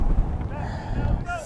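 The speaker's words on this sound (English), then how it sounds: "Very windy day here at East Long Meadow High School." Gusty wind buffets the microphone at an outdoor high school baseball game, a steady low rumble that swells and dips over the whole stretch.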